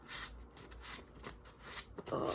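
Stiff glow-in-the-dark tarot cards being shuffled up close, with uneven bursts of papery flicking and scraping and a louder rasp at the end.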